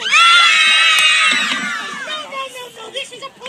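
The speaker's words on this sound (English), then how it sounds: "Why are you screaming, girls and boys?" A crowd of children in the audience at an outdoor Punch and Judy show screaming together, loud and sustained at first, then breaking into scattered shouts.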